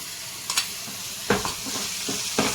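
Prawns fry in a pan with green masala paste of ginger, garlic, coriander and mint, giving a steady close sizzle with a few brief stirring scrapes.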